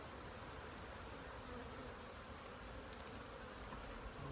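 Young honey bees crawl over a brood frame in an open hive, making a steady, faint, dense hum that continues evenly throughout, with no voices.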